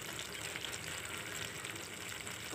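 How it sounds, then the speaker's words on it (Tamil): Ground coconut paste poured into a simmering gravy in a Tamil home kitchen, giving a steady, faint wet hiss and bubbling with no speech. "அதனால் நம்ம அரைச்ச தேங்காவை ஊற்றிடலாம்"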